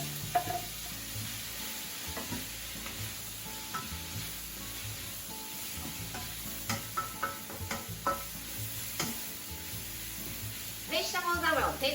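Vegetables sizzle in a pan while being stir-fried for ankake yakisoba, a moderate steady frying sound with stirring scrapes and clatter toward the end.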